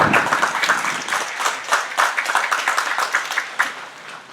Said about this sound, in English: let's give Scott a nice round of